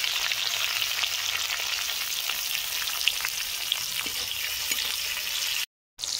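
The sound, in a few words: tomato and capsicum frying in mustard oil in a wok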